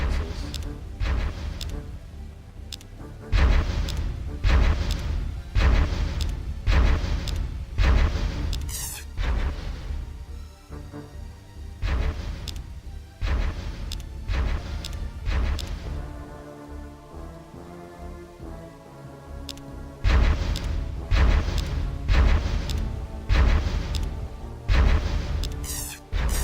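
Missiles fire during space combat in the Master of Orion 2 strategy game: a steady series of loud, booming bursts at fairly regular intervals over a sustained tonal background.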